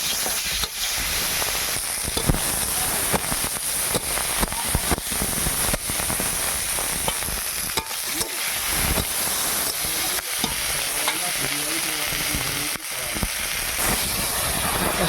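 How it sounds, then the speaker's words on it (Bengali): Okra, tomato and mango frying in a pan while being stirred, a loud continuous hissing sizzle with scattered scraping knocks, close up, no talking. "এবার ঢ্যাঁড়স টমেটো আম একসঙ্গে দিয়ে একটু নাড়াচাড়া করে নেব।"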